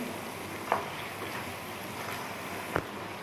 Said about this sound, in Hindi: मसाला हमारा अच्छी तरह से भुन रहा है।